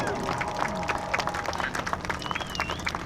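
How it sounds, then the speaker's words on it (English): An air show crowd at the Dover AFB open house cheers and claps for parachute jumpers landing in the target area. The applause is a dense, steady patter with scattered shouts, and an announcer talks over it. "they can always fly better when they can hear the roar of the crowd"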